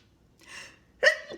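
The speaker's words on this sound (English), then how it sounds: "And I want to sneeze so bad." A single person's sneeze, a soft inhaling build-up followed by a sharp, loud burst that trails off, alone in a quiet room.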